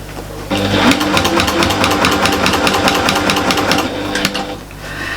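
A sewing machine runs steadily, back stitching through several layers of fabric for a storage caddy, its fast needle clatter continuous and close with a brief pause near the end before resuming.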